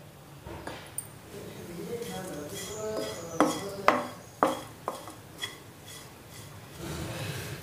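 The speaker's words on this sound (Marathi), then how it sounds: "यामध्ये आपण 1 वाटी खोबरं भाजून घेऊ।" A bowlful of coconut is dry-roasted in a pan, with a spatula scraping and clinking against the metal in sharp, uneven strokes, close by, over a steady low background hiss.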